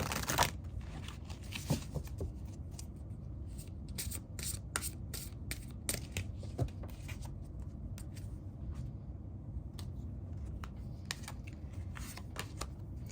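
Tarot cards shuffled and drawn for a pick-a-card reading, a steady soft riffling and rubbing with scattered sharp slaps and flicks of card stock, close and fairly quiet, with no voice over it.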